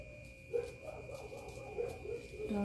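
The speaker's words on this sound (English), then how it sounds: "Dogs are talking again." Dogs indoors giving a few short yips and whimpers, faint and brief against a steady background hum.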